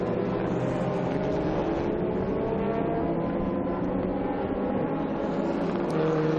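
A Radical SR10 XXR race car engine drones steadily at Portimao during a heat race, a sustained mid-distance roar with no break in the sound.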